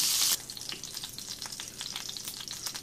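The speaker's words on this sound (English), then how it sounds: "then I will put the liver in, and it'll be 2 minutes on each side" Flour-dredged, milk-soaked liver fries over medium-high heat in a pan, a loud close sizzle with dense crackling pops that follows a brief louder burst at the start.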